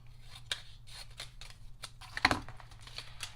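Scissors snip through a punched paper circle, cutting it in half with a few quiet crisp snips and one louder closing cut near the end, close up over a faint low hum.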